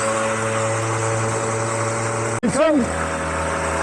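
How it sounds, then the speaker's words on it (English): A vintage 50cc Clark Scamp moped engine idles steadily with a low, even hum while warming up, briefly cut off and then revving with a rising and falling pitch before settling back. "She seems to be warming up and idling."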